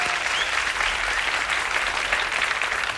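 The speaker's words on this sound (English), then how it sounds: "That and the applause signs, I get an ovation." Loud, dense studio audience applause on the Family Feud daytime TV game show in 1976, a steady roar of many hands clapping that fills the room evenly for about three seconds with no talking.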